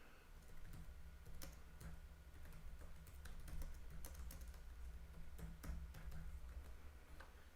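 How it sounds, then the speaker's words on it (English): Keys on a computer keyboard are tapped in a quick, irregular run of light clicks close up over a steady low hum, with no talking. "I'm going to highlight it and I'm just going to type my question."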